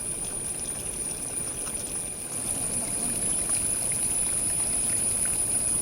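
Spring water runs down from farmland above a forest campsite, a continuous close trickling and splashing flow, steady and unbroken.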